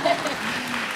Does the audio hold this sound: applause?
yes